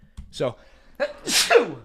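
A single sharp human sneeze with a quick gasping intake, close and loud, coming between short stretches of someone talking.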